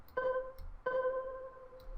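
A stretched pluck one-shot from Loner's Ricochet kit, dry with no effects, sounds twice as soft tonal notes with a light attack, the second ringing out longer, fairly quiet over a faint noisy background.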